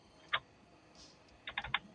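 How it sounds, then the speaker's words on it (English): Typing on a computer keyboard, with a single click followed by a quick burst of four or five keystrokes, quiet and close against a near-silent room. "I'm typing it out because"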